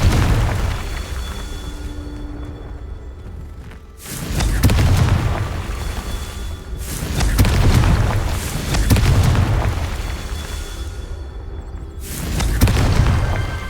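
Spell explosions in the Hogwarts Legacy video game, several loud booming blasts at intervals of a few seconds, each with a rumbling tail and dense crackle, no talking.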